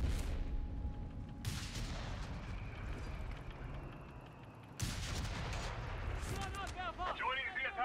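Bombs exploding in a World War II war game, with a dense, continuous rumble of blasts and gunfire and sharp new bursts striking near the five-second mark. Game voices talk through the barrage.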